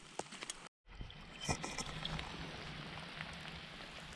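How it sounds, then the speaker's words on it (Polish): Steady rain falling over a riverbank on a wet fishing day by the Parsęta river during a sea trout outing, a soft continuous patter with a few louder drops, faint and close, no talking. "Słyszycie to? Deszcz, deszcz i jeszcze raz deszcz."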